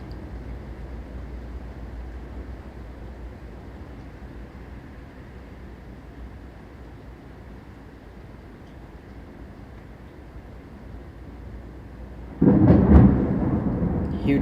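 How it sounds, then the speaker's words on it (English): Huge thunder cracks suddenly and loud near the end, rising out of steady wind-like rumble during outdoor practice in a storm. "Huge thunder."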